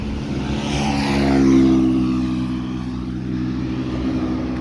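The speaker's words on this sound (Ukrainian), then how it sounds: "Показує, як скутер їде, як набирає." A Honda Dio AF62 scooter engine revs up and accelerates, rising to a peak then settling into a steady drone nearby.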